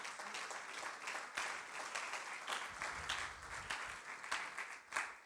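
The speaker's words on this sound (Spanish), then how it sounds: "Por eso dele un aplauso al Señor." A church congregation applauds the Lord, sustained crowd clapping at moderate distance, fairly even with scattered sharper claps.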